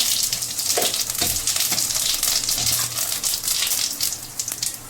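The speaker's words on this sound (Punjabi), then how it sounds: "ਸਾਡਾ ਆਇਲ ਗਰਮ ਹੋ ਚੁੱਕਾ ਹੈ ਹੁਣ ਅਸੀਂ ਇਹਦੇ ਵਿੱਚ ਪਾਵਾਂਗੇ ਜੀਰਾ" Cumin seeds crackle and sizzle in hot oil for a tadka in a home kitchen, a steady close frying hiss with a few spoon scrapes, no talking.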